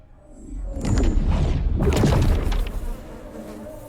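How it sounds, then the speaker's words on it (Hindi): Loud, close buzzing of mosquitoes in flight swells over about two seconds and then fades, with a few dull thumps mixed in. "बेचारे मच्छर, भोले भाले मच्छर, कितनी आजादी से उड़ रहे थे"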